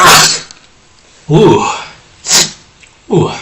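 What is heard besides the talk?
sneeze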